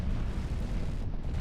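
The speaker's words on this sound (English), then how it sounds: "I think Ken is now going to be pinned in the damage zone by the coil cannon fire." Coil cannon fire in a Space Engineers PvP tournament match, heard as a continuous low rumbling barrage of explosions, dense and booming with no clear gaps, fairly quiet overall.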